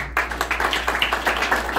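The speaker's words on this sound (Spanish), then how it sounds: "pido un fuerte aplauso" An audience at a tourism policy event applauds the mayor of Sosúa with quick, rapid claps in a steady patter, moderately close, lasting under two seconds.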